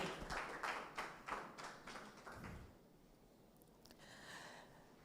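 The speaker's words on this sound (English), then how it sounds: "Please, can we clap for her again?" An audience at a panel event on digital transformation of small businesses claps for a speaker. The dense applause fades out after a couple of seconds into a quiet room.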